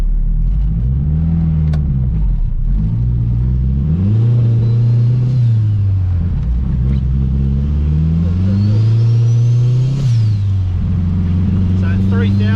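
A turbocharged K-swapped Honda Civic engine revs repeatedly to around 3,000–4,000 rpm, rising and falling in pitch through several strong pulls, loud and close, with a faint turbo whistle creeping in near the end.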